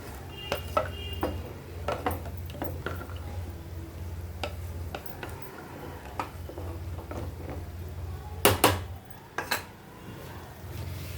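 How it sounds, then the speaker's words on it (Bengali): A spoon stirs jeera rice in a pot after hot water is poured in, making scattered metallic clinks and scrapes against the pot over a low steady hum, with a brief clattering burst near the end. "এটা আগে থেকে গরম করে নেওয়া জল। দিয়ে ভালো করে নাড়িয়ে চাড়িয়ে দেব।"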